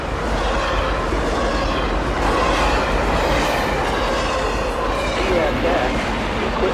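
CSX freight train QO26, long and largely empty, rolls past close by with a loud, continuous rumble and rhythmic wheel clatter over the rails.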